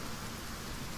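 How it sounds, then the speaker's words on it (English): Video game rain hisses in a steady, broadband wash, soft and continuous with no other sounds over it. "See now how it's raining?"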